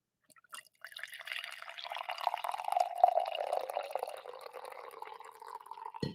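Coffee poured into a mug, a thin stream that starts after a moment of quiet and builds into a steady trickle, settling lower in pitch as the mug fills, with no talking.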